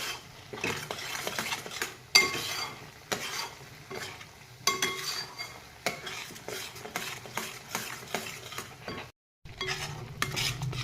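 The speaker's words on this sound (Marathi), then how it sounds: "आपल्याला मसाला तेल सुटेपर्यंत छान फ्राय करून घ्यायचा आहे।" Masala for paneer frying in oil, a spoon stirring and scraping against the pan in busy, uneven strokes over a continuous sizzle, close up with a brief silent gap near the end, no voices.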